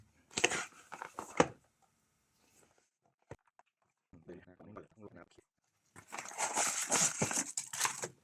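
Crinkly, rustling handling of a Nubwo NKB112 wireless keyboard's packaging being opened, with bursts of crackling at the start and a longer stretch near the end, and brief soft talk in between.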